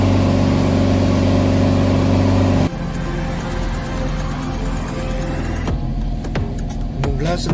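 A BMW M4 F82 idles while warming up, a loud, steady low engine drone that drops abruptly in level partway through and then carries on at a slightly softer, even hum, with a few sharp clicks near the end.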